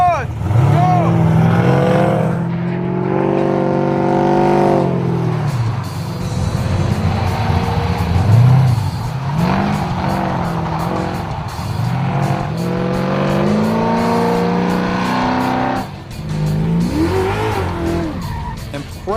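A 2014 Lingenfelter C7 Corvette nicknamed the Crusher Camaro runs an autocross course on winter tires, its engine roaring loud and close with repeated rising and falling revs, and tires squealing through the turns.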